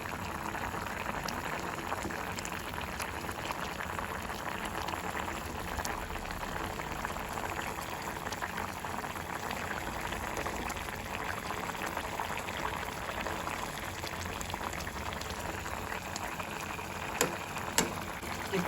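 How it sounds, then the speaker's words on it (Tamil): A pot of egg and potato curry in coconut milk bubbles steadily at a low simmer, covered, with a continuous soft gurgling and faint popping throughout and no voices. "இரண்டு நிமிடம் மூடி கொதிக்க வைப்போம்"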